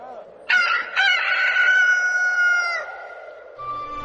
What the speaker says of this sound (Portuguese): o galo cantou pela segunda vez